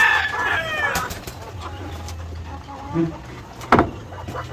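Hens feeding inside a farm coop, with faint clucks and scratchy pecking sounds and a sharp brief squawk near the end, heard beneath someone talking.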